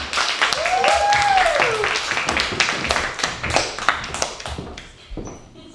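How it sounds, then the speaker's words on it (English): An audience at an improv troupe show claps in a scattered, moderate round of applause, with whoops and voices over it early on, tapering into a few sparse claps. "Please give a round of applause for them."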